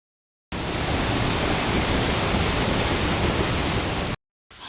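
A waterfall beside a small cave roars as a dense, even wash of rushing water that cuts in abruptly, holds steady and loud, then stops sharply.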